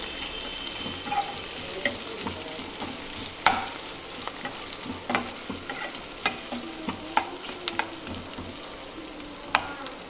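Gobi and tomato curry being stirred in a pan, with a steady faint sizzle and repeated short scrapes and taps of a spoon against the pan, with no talk.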